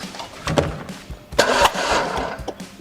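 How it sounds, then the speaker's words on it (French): A Peugeot 406 V6 engine cranks during a compression test, with rough, uneven bursts of noise that rise and fall over a few seconds, loud and close. "Joris, allez donc démarrer le moteur, que je prenne la prise de compression"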